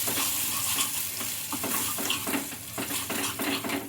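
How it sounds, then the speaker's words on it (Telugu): A spoon stirs onion, tomato and chili paste frying in a pan, with a steady sizzle under repeated scraping and mixing strokes, close and continuous. "ఇంకా ఇవి రెండు వేసుకొని బాగా కలుపుకోవాలి."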